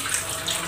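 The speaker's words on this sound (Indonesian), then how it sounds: "Kita siram dulu teman-teman ya, siram aja dulu tindakan pertama supaya asamnya hilang dulu" Water pours steadily over the rubber door gasket of an LG front-loading washing machine, a continuous close rush of splashing rinse water with no talk.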